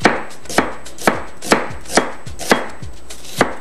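Food chopper blades whir and thud in short bursts, about eight even pulses roughly half a second apart, finely mincing onion in a kitchen cooking show; close and moderately loud, with no talking.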